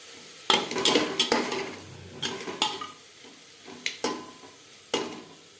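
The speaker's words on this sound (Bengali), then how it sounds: "কাঁচা গন্ধ যাওয়া পর্যন্ত নাড়াচাড়া করে নেবে" Mutton trotters stirred with tomato and carrot in a metal pan, a spoon scraping and clinking in bursts with a faint sizzle beneath, close and fairly quiet, no talking.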